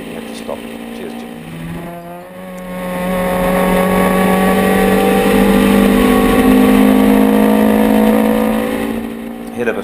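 A Hillman Imp race car fitted with a 1.8 litre VW engine drones past on a circuit, its engine note rising and holding loud and near before easing slightly, with a faint voice underneath.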